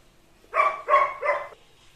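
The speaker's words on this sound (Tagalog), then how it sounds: "Yung kumakahol sa labas." A German Shepherd barks outdoors, three loud, evenly spaced barks in quick succession, fairly close and with no talking.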